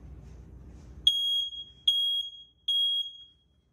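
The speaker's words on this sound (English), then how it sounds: "Now that indicates that the smoke alarm has detected smoke in your house." Three loud, piercing electronic beeps from a smoke alarm, each sustained about half a second with short gaps, following a low rumbling background.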